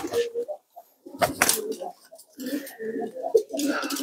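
Market-breed pigeons cooing close by, soft throaty coos repeated in short bursts with brief pauses, plus a few rustles and faint wing movement.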